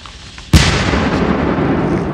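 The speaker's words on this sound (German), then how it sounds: "Oh, Alter, was ein Knall" A firework rocket bursts in one sudden, loud bang, followed by a long rumbling, crackling tail that fades slowly, with no voices.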